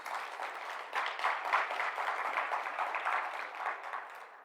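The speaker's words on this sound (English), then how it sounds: "I think that gentleman deserves a resounding round of applause" Applause from a stakeholders conference audience, a dense, even clatter of many hands clapping that swells after a moment and carries on steadily, fairly soft and without speech.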